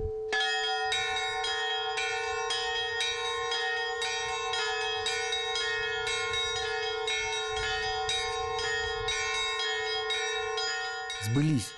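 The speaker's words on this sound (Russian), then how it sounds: "Зазвучали колокола возрожденного храма" Church bells ring out from the bell tower of a restored Holy Trinity monastery church, a steady, loud peal with overlapping tolls sustained throughout, closing with a brief rising tone at the end.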